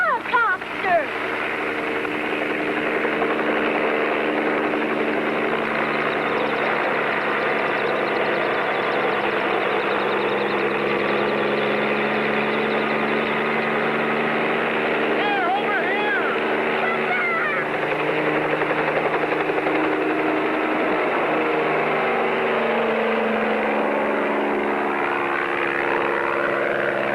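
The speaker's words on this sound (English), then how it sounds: "It's a helicopter!" A helicopter in flight gives a loud, steady rotor and engine drone that runs unbroken for the whole stretch, shifting slightly in pitch near the end.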